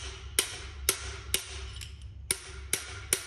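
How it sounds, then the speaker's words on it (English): Hammer blows driving a swaging tool into a copper tube, seven sharp metallic strikes spaced roughly half a second apart, close and clear with quiet pauses between. "we are going to hammer it all the way till it goes in to this depth"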